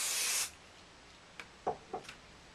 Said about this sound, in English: I'm going to just quickly stick and spray those together